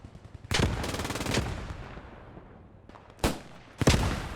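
Gunfire in a Post Scriptum WWII battle: three sharp loud broadband bursts, the first a sustained rattling volley of rapid shots about a second long, followed by two short separate cracks.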